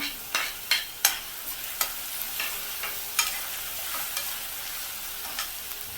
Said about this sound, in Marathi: कांदा थोडा हलकासा परतून घ्यायचा आहे